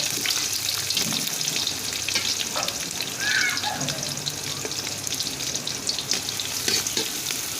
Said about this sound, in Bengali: পেঁয়াজটাকে আমি কিছুক্ষণ ভেজে নিচ্ছি নাড়াচাড়া করে